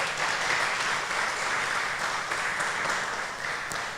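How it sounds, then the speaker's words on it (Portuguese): Applause fills a church during a sermon, a dense steady crowd of clapping hands that holds evenly throughout without pause. "Eu aplaudiria agora com força."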